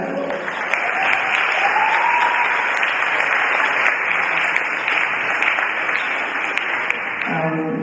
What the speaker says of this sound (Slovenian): dajmo en aplavz, da ste slišali